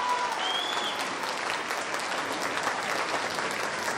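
An audience at a school annual day claps for Vijayakanth fans, with dense, sustained applause from a large crowd throughout.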